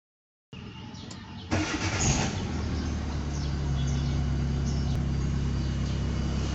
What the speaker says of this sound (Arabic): وهنقوم بتشغيل السيارة وبعد كده هنفصل الحساس